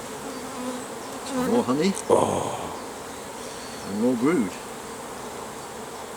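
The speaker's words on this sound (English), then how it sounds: "So you see a lot of bees here" Honey bees buzz steadily at an open hive on a bee farm, a close, continuous drone while someone speaks over it in short phrases.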